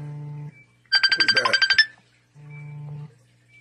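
An electronic phone ringtone plays a sustained buzzing tone, then a bright pulsing chirpy melody of about ten quick beats, then the sustained tone again, loud and close.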